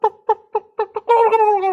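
A person vocally imitates a wild turkey: five short, evenly spaced clucks, then a drawn-out, warbling yelp. The call is close and loud, with no other sounds.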